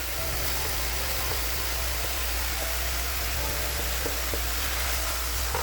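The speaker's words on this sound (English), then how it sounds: "I'll put the onions in." Onions dropped into a hot pan with garlic fry with a dense, steady sizzle and hiss that holds loud and even throughout, with no voices over it.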